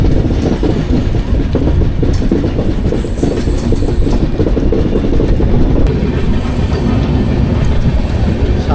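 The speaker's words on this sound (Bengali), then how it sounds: "বিশাল বড় বেন্ড, ট্রেন চালু হয়েছে, দেখাচ্ছি। সামনে ইঞ্জিনটা দেখা যাচ্ছে" Samarsata Express 12152 passenger train running between Kolkata and Mumbai, with a steady loud clatter of wheels on rail and a broadband rumble continuing through the whole stretch, with no voices.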